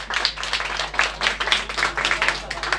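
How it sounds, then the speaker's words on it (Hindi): An audience at a maths lesson claps for a few seconds in steady, fairly close applause, with no voice over it. "अगर अच्छा लगा तो जोरदार ताली एक बार हो जाना चाहिए।"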